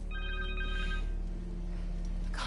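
Ringing cell phone in the Spider-Man 2 video game, a brief burst of bright repeating electronic tones over a steady low hum of game ambience, fading after about a second.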